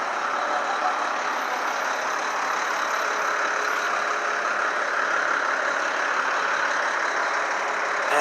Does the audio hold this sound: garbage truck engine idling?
yes